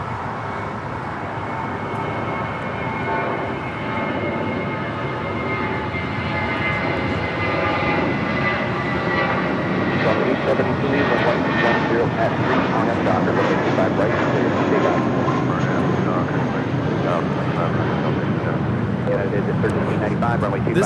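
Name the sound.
Delta Boeing 767 jet arriving from JFK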